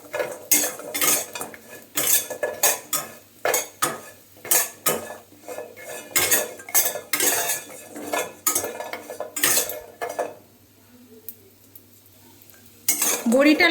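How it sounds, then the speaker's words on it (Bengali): Lentil bori frying in mustard oil on low heat are stirred with a metal spoon in a kadai, giving frequent sharp scrapes and clanks over a faint sizzle, then a short quieter pause before more clatter. "বিউলির ডালের বড়িগুলো আমি সরষের তেল দিয়ে ভেজে তুলে নেব। ধিমে আঁচেই বড়িটা নাড়াবো"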